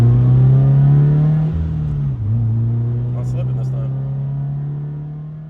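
Subaru BRZ TS race car engine with a repaired clutch, a sustained close engine drone that dips briefly then settles and slowly fades, with no talk over it.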